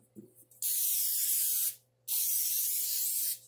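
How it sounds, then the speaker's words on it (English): Olive oil cooking spray misted onto air fryer racks lined with parchment: two close, loud hissing bursts, the first about a second long and the second slightly longer, separated by a short pause. "I'm gonna do a little olive oil spray on them."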